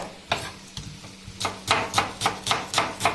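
Onions chopped finely with a knife on a board, a few slow cuts followed by a steady run of sharp, evenly spaced thuds close by.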